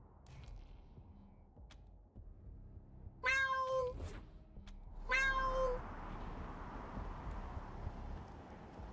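A cat meows twice inside the post-apocalyptic role-playing game Wasteland 3, each meow clear and fairly close, separated by a short gap over quiet game ambience.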